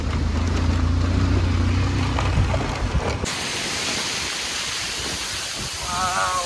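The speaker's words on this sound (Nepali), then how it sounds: "यो झर्ना" Steady rushing water from a waterfall at Chyamche, Manang, Nepal, fills the whole clip, a broad continuous hiss of falling water, with a low engine rumble in the first half that cuts out abruptly.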